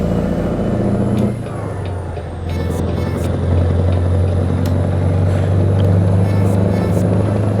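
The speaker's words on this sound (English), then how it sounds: "Oh man, does this truck sound good?" Freightliner truck engine in American Truck Simulator drones low and steady while cruising, swelling louder in the second half, with a brief air-brake hiss early on and no talk over it.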